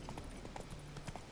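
Hooves of the horse Roach trotting in The Witcher 3 game, a quiet, steady clip-clop of several footfalls over a faint low hum of game audio.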